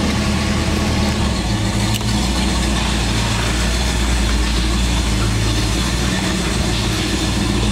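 A 1968 Plymouth convertible's engine runs with a steady, loud low rumble close by, holding an even idle-like drone with slight fluctuations and no talking.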